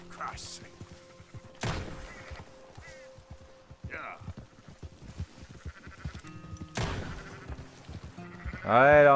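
Red Dead Redemption 2 game audio with scattered sheep bleats from a herd over a clopping, thudding background, a brief rising call near the end, and voices talking at times.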